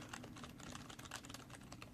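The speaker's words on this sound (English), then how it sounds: "what I did notice when typing on this particular keyboard" Steady rapid typing on a Logitech G105 membrane keyboard, punchy keystrokes clicking continuously at close range with no talking.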